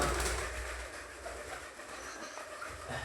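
Koka pigeons cooing and fluttering as they are let go outdoors, a soft continuous bird murmur over steady broadband background noise, no talking.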